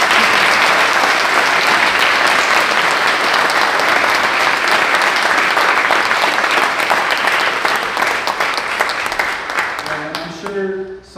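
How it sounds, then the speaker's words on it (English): An audience at a Seong Hwa memorial ceremony applauds steadily, with dense, loud clapping that holds for about ten seconds before fading, as a voice briefly emerges at the end. "let's give a round of applause to all of our testimony givers"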